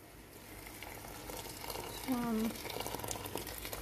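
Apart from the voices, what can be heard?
hot boiling water poured into lentils and onions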